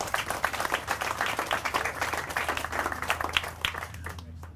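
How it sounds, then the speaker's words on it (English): Moderate applause from a gathered audience at a Lincoln city press event kicking off Lincoln Cares and 2 For Trees, steady clapping continuing with a low background hum and tapering off at the end. "let's give Gail a big round of applause"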